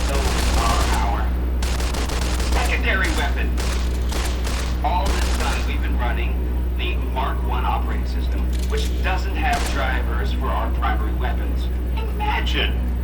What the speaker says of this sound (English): for close-range suppression and crowd control, we have this handy-dandy 9mm submachine gun